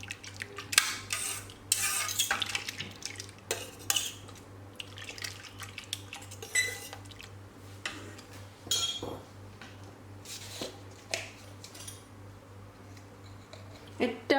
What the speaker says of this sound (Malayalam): ഇതേപോലെ ഫോർക്ക് വെച്ചിട്ട് എല്ലാം കൂടിയിട്ട് നന്നായിട്ട് മിക്സ് ചെയ്ത് കൊടുത്താൽ മതി